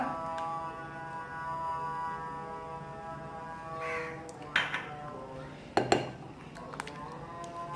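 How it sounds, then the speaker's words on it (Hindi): A spoon clinks and scrapes in a bowl as yogurt and mayonnaise are stirred together, a few soft taps and sharper knocks over a faint steady hum, quiet and close. "इन दोनों को हम अच्छे से मिक्स कर रहे हैं।"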